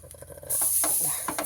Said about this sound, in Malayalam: അപ്പോൾ ഇത് നമുക്ക് ഫ്രൈ പാനിലേക്ക് വയ്ക്കാം